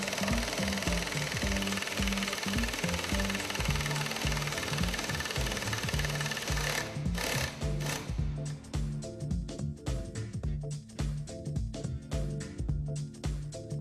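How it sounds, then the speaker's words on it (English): A brake caliper bushing being pressed out with a bushing removal tool, giving a loud, steady mechanical grinding and rattling that turns into a choppier series of sharp clicks and knocks partway through. "Using the assembled and lubricated tool, remove the bushing from the caliper"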